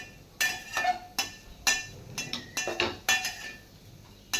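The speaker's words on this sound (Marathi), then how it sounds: "2 ते 3 मिनटं हे नारळाचा किस आपण असा परतून घ्यायचा" Grated coconut mixture sautéed in ghee in a metal pan, heard as a series of sharp clinks and scrapes of a utensil against the pan, irregular and close, with no talking.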